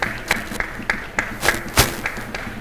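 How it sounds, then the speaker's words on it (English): A small group claps for a conference panel in a large hall, a few sharp, fairly loud hand claps with irregular gaps, not a dense sustained ovation. "Give a warm round of applause."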